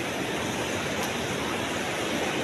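Steady, broadband rush of fast-flowing water, loud and continuous with no pauses or voices.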